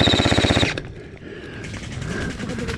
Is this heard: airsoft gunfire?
yes